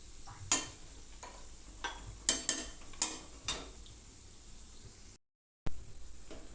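Malabar spinach leaf fritters frying in oil in a pan, a faint steady sizzle under a few sharp clinks and scrapes of a utensil turning them, with a brief dropout near the end.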